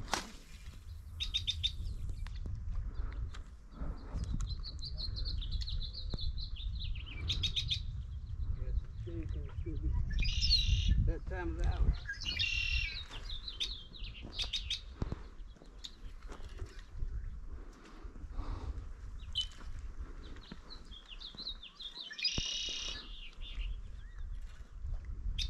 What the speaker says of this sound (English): I love that sound. That's a red-winged blackbird.